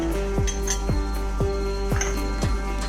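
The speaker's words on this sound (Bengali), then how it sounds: "এই স্ট্যান্ডগুলোর মধ্যে বাটিগুলো আমি আস্তে আস্তে বসিয়ে দিই" Small bowls set one by one onto a stand inside a pot of simmering water on a lowered gas flame, several soft clinks spaced at a steady rhythm over a low constant hum.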